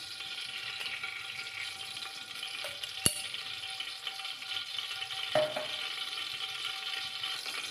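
Onions fry in coconut oil with a steady, soft sizzle throughout, broken by a couple of sharp clicks and a light scrape of a spoon.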